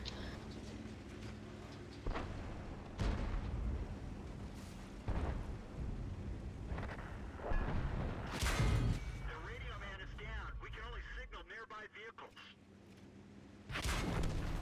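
Artillery fire in a military video game, repeated heavy booming impacts spread across the clip, some close and loud, others duller, with a voice talking over parts of it.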